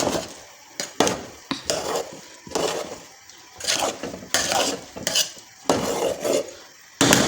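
A spoon scrapes and clinks against a pot while salted rice for matar pulao is stirred, with irregular bursts of metallic scraping separated by brief pauses and no talk.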